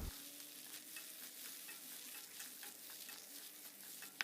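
Quiet, steady sizzling of tomatoes being stir-fried in a pan with glass noodles, with faint scraping of a utensil stirring throughout.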